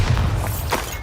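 A Bombarda explosion spell goes off in the video game Hogwarts Legacy, a short, heavy booming thud with a burst of crackling debris, heard alone.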